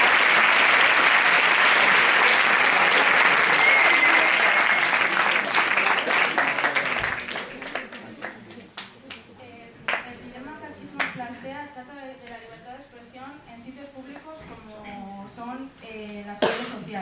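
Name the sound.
audience applause at a philosophy olympiad final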